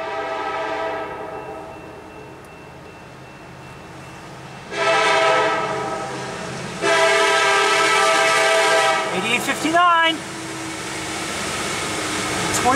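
CN freight train led by an EMD locomotive passes near the Town of Hubbard, its loud, sustained horn blowing in several long blasts over the rumble of the train.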